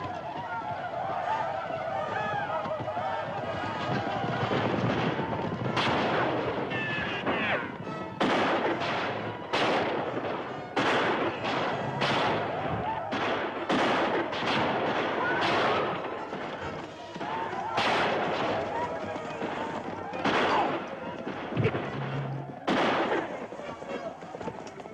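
Scattered gunshots and louder blasts ring out across a 1955 battlefield scene, irregular cracks near and far over a dense background din, with shouting voices mixed in between the reports.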